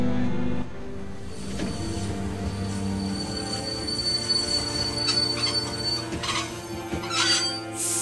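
Train brakes squealing in The Walking Dead video game: a sustained high metallic squeal over a steady rumbling rail drone, with the screech thinning out midway and some faint clanks near the end.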